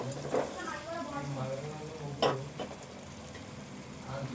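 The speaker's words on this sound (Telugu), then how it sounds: "ఈ టమాటాతో పాటు ఈ చికెన్ వేగాలి" Chicken fries with tomatoes in a pan under a soft, steady sizzle, with occasional stirring scrapes, while a person talks over the cooking.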